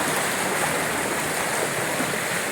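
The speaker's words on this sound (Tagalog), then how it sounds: "pumasok pa rin po yung tubig sa loob" Continuous heavy rush of floodwater pouring into a house after a night of rain, a dense broadband roar without pause and no voices.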